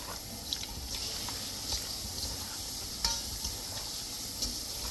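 Fish being mashed and mixed with lime pepper seasoning by hand for stewed snapper, soft wet squelching and stirring sounds with occasional sharper squishes, close and fairly quiet, no talking.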